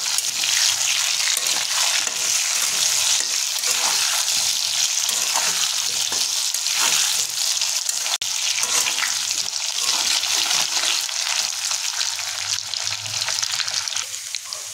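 Raw banana and potato pieces fry in a kadai with a loud, steady hiss and sizzle, broken by the scrape and clatter of stirring, with no talking.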